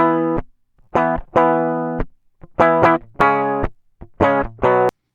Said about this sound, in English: Here it is without any of the processing on, just the DI part.